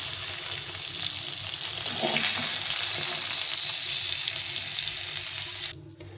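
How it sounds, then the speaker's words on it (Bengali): Eggplant fries in hot oil, a loud, steady close-up sizzle and hiss with faint stirring that cuts off abruptly just before the end. "প্রথমে বেগুনটা একটু ভেজে নেব।"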